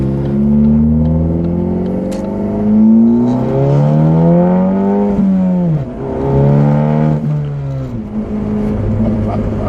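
A Ford Focus sedan with a swapped-in ST engine makes its first drive around a property, its engine note rising and falling through several revs and gear changes, loud and close throughout with no talk.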